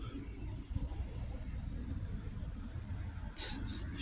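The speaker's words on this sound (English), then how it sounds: "She hears like a cricket or a grasshopper or something." An insect, a cricket or grasshopper, chirps in a fast, regular pulsing trill close by, continuing throughout against a low background rumble, with a brief hiss near the end.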